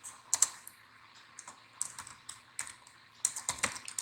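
Fingers tapping on a computer keyboard while entering HTML text, a quick irregular run of soft close clicks with brief pauses, no voices.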